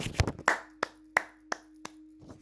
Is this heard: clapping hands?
yes